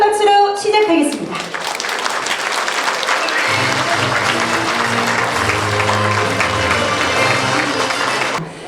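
A crowd claps vigorously to open an election campaign office ceremony for a Daegu education superintendent candidate, sustained applause with music playing underneath and a brief voice at the start.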